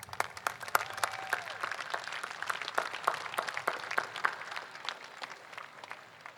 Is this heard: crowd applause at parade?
yes